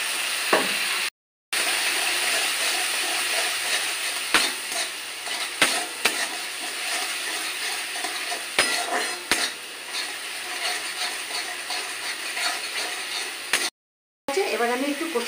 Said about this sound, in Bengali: এই জলটা দিয়ে আমি একটুখানি কষিয়ে নেবো,